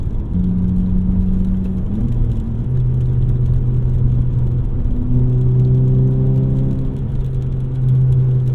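A 2018 VW Golf GTI with an aftermarket exhaust drones loudly and steadily, its engine note stepping up and down in pitch as it cruises and shifts, heard alone without talk.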